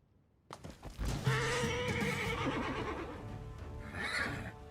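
Plague horses in a fantasy video game let out loud whinnies and neighs with hoof clatter, one long neigh followed by another near the end.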